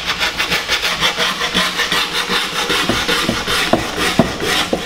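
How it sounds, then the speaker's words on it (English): Grip tape being sanded along the edge of a skateboard deck, a steady rhythmic scraping and rubbing that repeats in quick strokes, close and fairly loud with no talking. "you're going to sand it down, and this is to make sure that your grip doesn't come and peel up"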